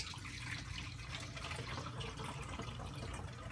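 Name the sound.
pouring homemade root beer into quart bottles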